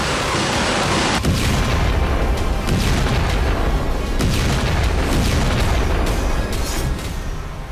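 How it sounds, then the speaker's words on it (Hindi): Heavy explosions from the Israel-Yemen war, a continuous loud roar of blasts and rumbling detonations with repeated booming bursts, no talk over them. "इजरायल से लेकर यमन तक ताबड़तोड़ बारूदी धमाके।"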